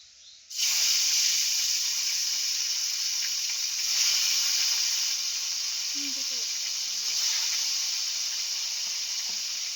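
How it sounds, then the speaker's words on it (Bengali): Pieces of katla fish fry in plenty of oil at medium heat, giving a steady, loud sizzling hiss that holds evenly throughout with no talking. "এই কাতলা মাছগুলো আস্তে আস্তে এই তেলেই ভেজে নেব"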